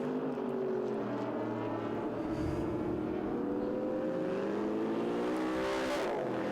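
Group S sports cars, including a Corvette, race at the Winton Festival of Speed 2022, with a close engine note rising and falling in pitch through the gears over a steady roar.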